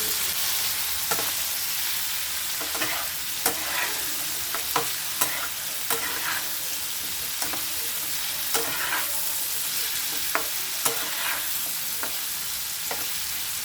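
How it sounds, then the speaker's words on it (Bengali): Potatoes fry with turmeric in a pan, a continuous bright sizzle broken by repeated sharp scrapes and clacks of a spatula stirring, close and with no one speaking. "ভালো করে আলুর সঙ্গে এটা ভেজে নিতে হবে।"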